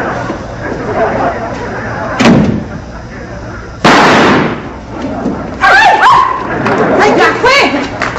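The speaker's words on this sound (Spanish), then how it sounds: "El disparo fue dentro del cuarto de Tres Patines." A gunshot sound effect in a Cuban radio comedy: one sharp broadband crack, then a second loud burst, set among excited voices of the cast talking over it.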